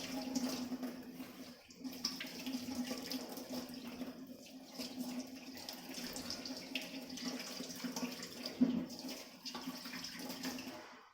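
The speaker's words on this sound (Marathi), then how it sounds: "सगळी सोलून झालेली आहेत अंडी ती धुवून घेते" Peeled boiled eggs are rinsed under a running kitchen tap, a steady, fairly close stream of water splashing continuously with no talking.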